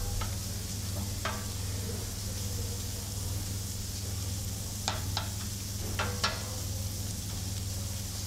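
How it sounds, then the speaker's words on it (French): Cabbage fries in a pan with a steady, dense sizzle throughout as wine vinegar is added, with a few sharp ticks and clinks of a utensil. "And now he's going to add a little bit of wine vinegar."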